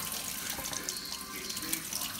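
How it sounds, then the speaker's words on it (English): Tap water runs steadily into a sink over a toy dinosaur egg, a continuous close splashing hiss with no one speaking. "turn on the water and run the water over the egg"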